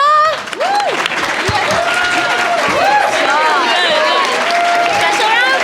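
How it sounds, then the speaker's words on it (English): An audience at a BronyCon 2017 voice-acting panel claps and cheers loudly and continuously, with whoops and excited voices rising above the applause. "Special round of applause for them."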